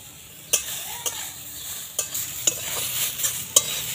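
Grated papaya stirred and fried in oil over low heat with cardamom: a soft hiss under sharp, irregular clinks and scrapes of a spatula against the pan, close by, no talk.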